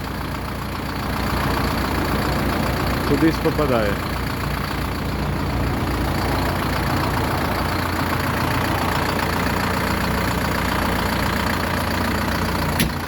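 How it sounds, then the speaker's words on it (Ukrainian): Orion JD504 tractor with a cab, yellow-green, its engine running steadily throughout, a low continuous drone with people talking over it. "Черговий жовто-зелений трактор відправляється до власника."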